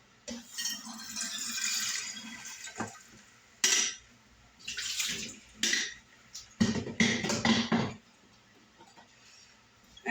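Tea cup rinsed out with running water, splashing and clinking in irregular bursts against faint background, with a few close clinks of ceramic.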